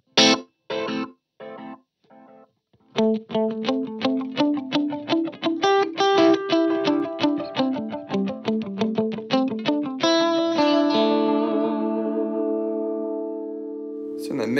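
Electric guitar run through a delay at 75% scale, the repeats falling as a dotted eighth and a quarter note together. Distorted, driven notes build into a dense, rhythmic cascade of echoes that rings out and fades near the end.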